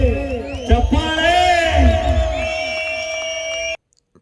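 An audience at a stage program cheers and whoops loudly, with voices rising over steady crowd noise for several seconds before cutting off abruptly.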